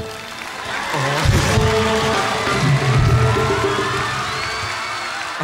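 Concert crowd at a show cheering and clapping, a steady loud wash of voices and shouts with bursts of whooping, plus some speech mixed in.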